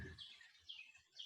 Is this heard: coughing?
no